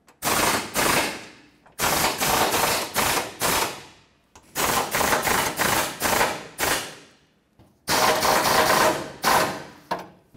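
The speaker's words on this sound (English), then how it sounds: "So in no particular order, tighten all the bolts." A power impact tool tightens bolts on a 2009-2014 Ford F-150 bumper and air dam: loud rattling bursts in four clusters, each made of several short hammering pulses with brief pauses between them, nearby and with no talk.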